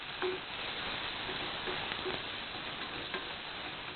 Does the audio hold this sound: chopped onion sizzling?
yes